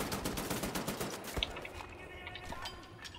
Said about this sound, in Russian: а зенитчик так и продолжает стрелять